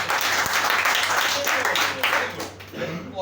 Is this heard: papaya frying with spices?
no